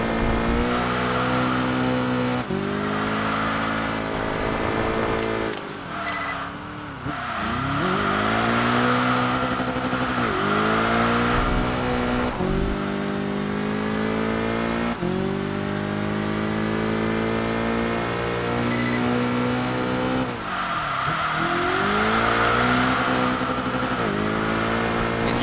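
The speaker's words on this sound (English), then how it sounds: "This car is so much fun to drift. Can't you tell I'm enjoying sliding out the STI?" A Subaru STI drifting in the racing game Enthusia Professional Racing, its engine revving hard and rising and falling through repeated gear shifts, with brief tire squeals, loud and continuous with no voices.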